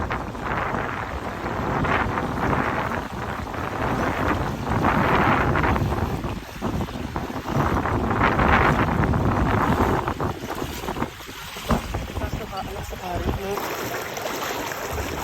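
Strong river current at Maate in Famy, Laguna rushing in a loud, continuous wash, with heavy wind buffeting the microphone and voices talking faintly underneath.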